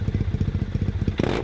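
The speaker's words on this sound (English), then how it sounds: "And here's my Triumph motorcycle that doesn't have any mufflers." A Triumph motorcycle with a racing setup and empty, muffler-less pipes idles close by, a loud, rapid, lumpy chain of exhaust pulses that ends in a short blip of revving.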